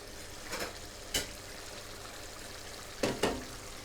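Curry sauce for a chicken jaal fry cooks in a pan with a quiet, steady sizzle and bubbling. A few soft stirring scrapes and splashes rise above it.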